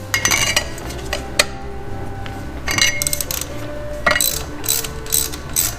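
Ratchet wrench loosening a 14mm bolt on a 2008 Honda Accord coupe motor mount, rapid metallic clicking in several close, loud bursts with brief pauses and light clinks of the tool between them.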